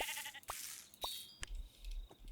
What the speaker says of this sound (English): there you get a little lamb